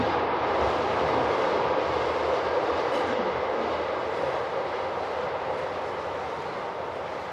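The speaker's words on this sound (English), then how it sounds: "We'll wait for the train." A train rumbles past outdoors, a loud, steady roar of wheels and carriages that fades slightly toward the end, with no voices.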